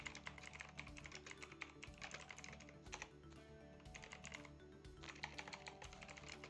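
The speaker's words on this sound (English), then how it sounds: "type a quick summary." Quiet, steady typing on a computer keyboard while entering a short summary, with rapid, irregular key clicks and brief pauses, close and faint with no voice.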